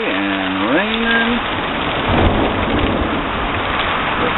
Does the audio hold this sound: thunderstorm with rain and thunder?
yes